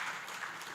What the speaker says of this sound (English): let's clap for them, for her